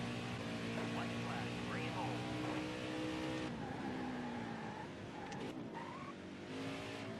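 Honda race cars roar around a road course in Nascar Heat 5, engines droning loud and continuous with shifting pitch and brief tire squeal, a commentator's voice occasionally over the engine noise.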